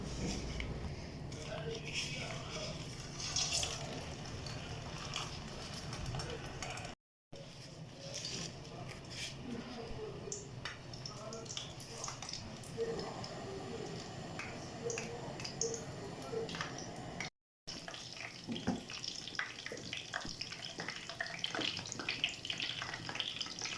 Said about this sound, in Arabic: طبعا عندي هنا همبرجر الدجاج، راح ابدا اقليه بالزيت.